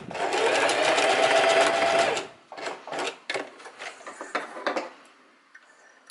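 A sewing machine stitches linen shorts along an elastic waistband seam in a loud, steady run of about two seconds, then pauses and gives several short stop-start bursts and clicks before going quiet.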